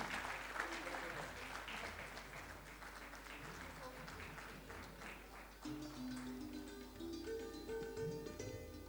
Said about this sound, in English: Can we hear a big round of applause for Mr.